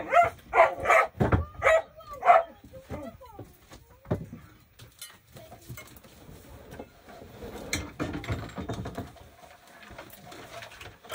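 A dog barks several times in a quick series up close, then quieter rustling and scattered small noises follow.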